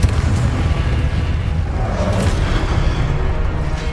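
Booming blasts of a fiery Confringo spell in Hogwarts Legacy during a wizard duel, a dense, sustained rumble of explosions filling the whole stretch with heavy low-end impact.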